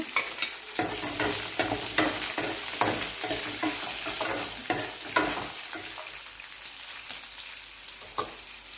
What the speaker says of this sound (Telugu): ఇప్పుడు పచ్చిమిర్చి ఉల్లిపాయలు కూడా వేసుకోవాలి